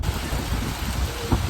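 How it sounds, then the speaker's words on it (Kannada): Rain falling during a trip to Gokarna gives a dense, steady wash of noise, fairly loud and continuous, with no voices. "ಮಳೆ ನೋಡಿ ಗೈಸ್,"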